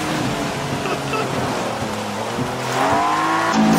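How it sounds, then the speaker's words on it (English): An all-wheel drive race car in the video game Forza 7 passes close by, its engine note climbing into a loud rising whine over a rushing road noise and tire hiss. "I got some all-wheel drive car going by me, man."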